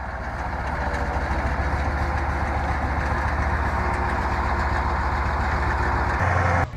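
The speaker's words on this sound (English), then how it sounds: "The sound of the engine echoed in the deep forest" A Star 660 heavy truck engine idles and runs steadily in a forest, a loud continuous low rumble with a regular pulsing throb that holds constant and then shifts tone near the end.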